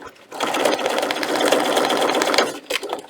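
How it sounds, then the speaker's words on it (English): A sewing machine stitches fabric for a homemade book protector, running in a steady, rapid mechanical whir for about two seconds before stopping with a few short bursts as the stitching pauses. "I'm going to back stitch and then resume sewing."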